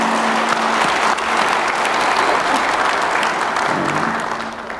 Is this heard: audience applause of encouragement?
yes